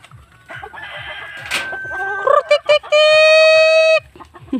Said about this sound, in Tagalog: Pakainin natin yung mga manok natin.